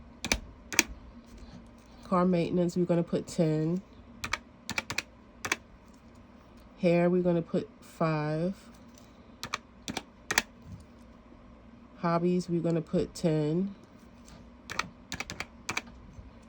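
Numbers punched in on a calculator's keys: a string of sharp, close taps in irregular bursts between stretches of nearby speech while a weekly budget is worked out.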